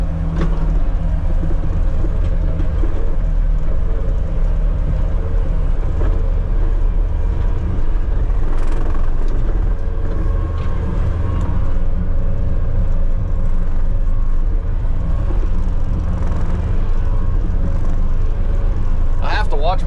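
A skid steer engine runs steadily throughout, a continuous low rumble close by while clearing trees on a 35-acre Colorado property, with no break in the drone.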